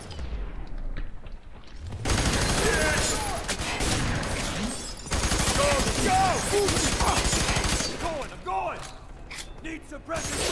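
Heavy automatic gunfire erupts in the shooter game F.E.A.R., sustained bursts with clattering mechanical noise after a quiet opening, loud and close, with shouted voices mixed in among the shots.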